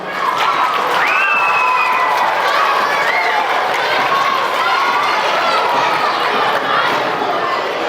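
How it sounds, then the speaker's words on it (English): A large crowd at an elementary school pep rally applauds and cheers loudly and continuously, with children's shouts and excited voices mixed into the roar. "Give her a round of applause."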